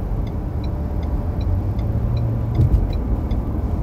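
A car cruises on interstate I-26 heading west in Columbia, South Carolina, giving a steady, loud road and engine rumble from inside the cabin with faint higher tones over it.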